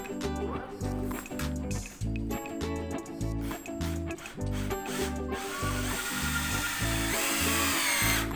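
An electric drill with a multipurpose bit runs in a pulsing, ratcheting rhythm while boring into aluminium, loud and close, the pitch climbing toward a steadier high whine.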